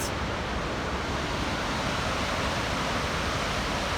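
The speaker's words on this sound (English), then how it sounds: "now we're at the real falls, which is actually much more impressive" Yellowstone waterfall roaring steadily and loudly as a dense, unbroken broadband rush of falling water, close by, with no voices.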